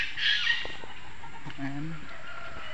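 Chickens and labuyo junglefowl cluck at a wildlife rehabilitation center in Laguna, a few short clucks and calls near and moderately loud, with a bit of background noise.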